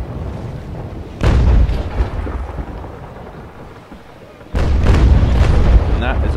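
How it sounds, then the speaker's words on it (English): Ship broadside cannon fire in the naval sailing game Naval Action: two heavy, rumbling booms a few seconds apart, each followed by a long rolling roar, with a voice talking in the quieter stretch between them. "And that is a broadside."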